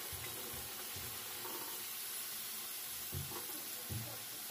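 Thick chunks of potato fry in hot oil until crisp, giving a faint, steady hiss and sizzle with soft stirring bumps and no voices.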